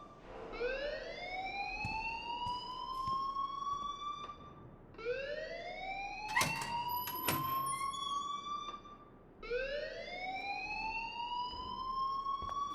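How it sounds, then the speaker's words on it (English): A fire alarm in the video game Life is Strange wails in three long rising siren sweeps, steady and fairly loud, with a couple of sharp clicks between the second and third cycles. "please turn off that alarm since that's your job"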